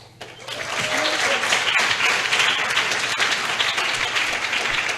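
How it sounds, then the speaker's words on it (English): Audience applause at a medical school white coat ceremony, a steady dense wash of many hands clapping that swells quickly after a brief quiet start and holds loud and even throughout. "You deserve the clap of hands."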